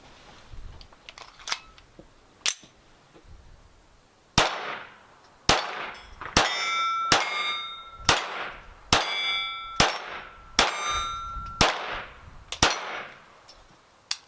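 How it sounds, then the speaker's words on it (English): Sharp, bright shots from a Smith & Wesson Victory 22 semi-automatic pistol ring out with metallic ringing, a few spaced shots early, then a quicker string of about a dozen, loud and close. "Grab the next magazine, slide it in, keep on shooting."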